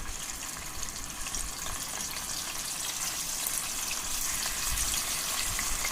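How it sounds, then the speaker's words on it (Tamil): Paneer cubes frying in hot oil in a pan, a steady loud sizzle and crackle that continues throughout. "இது ஒன்று ஒன்றா எண்ணெயில் போட்டுக்கலாம்."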